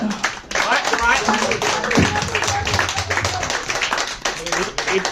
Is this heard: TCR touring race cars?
no